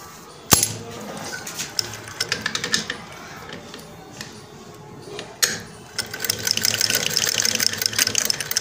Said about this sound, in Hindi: ये देखो, ये नीचे का जो है धागा नहीं उठा रही है।